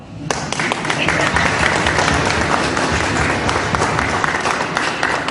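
A church audience applauds with sustained, dense clapping. It is fairly loud and steady, with individual claps audible throughout and a faint murmur of the crowd beneath it.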